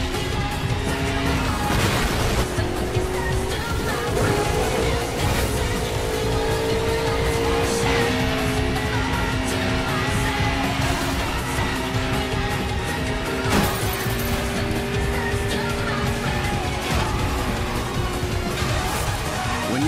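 Car engine roaring steadily throughout a Burnout Paradise race, with shifting revs, impacts and a sharp crash burst midway as a rival driver is taken down, loud and continuous with game music layered underneath.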